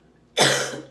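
A single sharp, loud cough close to the microphone, breaking out of near silence and trailing off over a fraction of a second.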